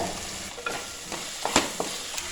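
Chopped shallots sizzle in hot oil in a pan for a roasted-coconut chicken curry, with a few sharp clinks and scrapes of a spoon stirring over a constant frying hiss.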